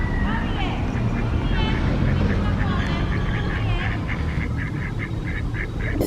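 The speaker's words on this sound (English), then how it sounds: "There's something going on with these ducks." Ducks quack in a park, a run of repeated nasal calls over loud steady wind or outdoor rumble, with the birds sounding moderately close.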